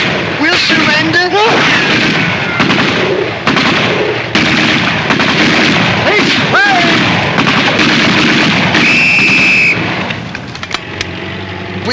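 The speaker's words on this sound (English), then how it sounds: "Stop shooting! We'll surrender." Gunfire and artillery blasts from a 1941 cartoon, loud bursts and booming shots in rapid succession, mixed with cartoon voices and music.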